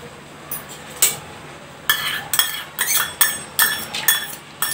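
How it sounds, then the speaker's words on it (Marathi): Coriander and cumin seeds are handled in a steel pot, producing sharp metallic clinks and scrapes in uneven bursts, close and clear with quiet gaps between, no speech. "एक स्टीलचं पातेलं घेऊन मी त्यात धणे जिरे काढून घेते."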